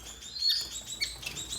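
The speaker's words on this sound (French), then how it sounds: "Ici, vous avez principalement des moineaux du Japon." Japanese munias, also called society finches, chirp in a breeding aviary with bright, high, overlapping calls, a busy close-up twitter that carries on steadily with brief louder peaks.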